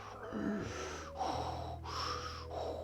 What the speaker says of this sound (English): our throat a little bit when we breathe in, so we create a little sound